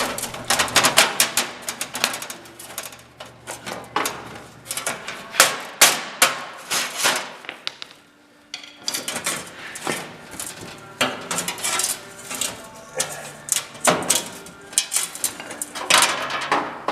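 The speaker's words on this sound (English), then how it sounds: "Right now I am struggling to make some rivets pop off" A screwdriver pries at rivets on the floor pans of a Yamaha G1 golf cart, producing repeated close metallic clanks, scrapes and taps in irregular bursts, with a brief pause midway.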